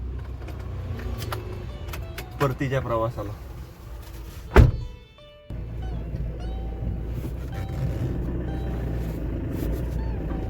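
A car is started up and driven off, with a door-like thump and mechanical clatter before a steady engine and road rumble, and a person speaks over it.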